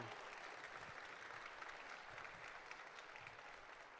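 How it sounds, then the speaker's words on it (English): A crowd at the Crappie Expo fishing tournament event gives sponsor Ford a round of applause: a steady, distant wash of many hands clapping, faint and even throughout, fading slightly at the end. "Let's give Ford a big round of applause for sponsoring the Crappie Expo."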